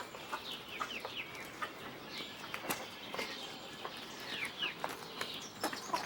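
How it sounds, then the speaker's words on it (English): A chicken at a petting zoo clucks repeatedly in short, nervous bursts, close and moderately loud, alongside other faint bird calls and some footsteps in the background. "The chicken's scared."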